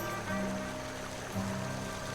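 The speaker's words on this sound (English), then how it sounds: "a swift, cold, pebbly, babbling brook" A swift, cold, pebbly brook babbles steadily in The Night of the Rabbit, a soft continuous wash of water under a faint tonal game ambience, with no voices.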